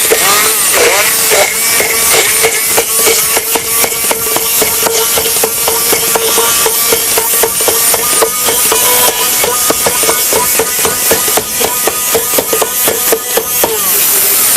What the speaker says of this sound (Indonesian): Kemudian kita akan haluskan semua menjadi satu.